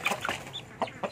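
Chickens cluck in short, clipped bursts close by, several quick calls spread irregularly across a brief moment with a bit of soft background noise.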